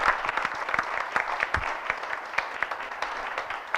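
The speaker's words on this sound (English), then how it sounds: "Round of applause for Patrick." Audience applause for a presenter named Patrick at a mobile app marketing meetup, a steady wash of many hands clapping throughout, fairly close and even in loudness.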